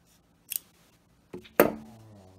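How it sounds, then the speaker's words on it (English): Scissors snip off excess yarn while a crocheted prayer bear muzzle is being finished, making a light opening sound and then two sharp close cuts, the last ringing briefly. "I'm going to cut this off right here."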